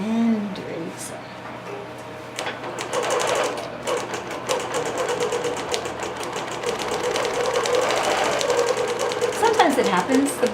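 A quilting sewing machine stitches through a quilt, running at a steady, rapid, close-up chatter for the whole stretch with a light background voice now and then.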